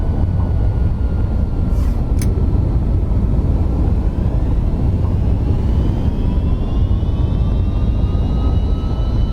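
Loud, steady roar of MD-11 thrust reversers after touchdown in the X-Plane 12 simulator, a dense broadband rumble filling the whole stretch with a faint rising whine near the end.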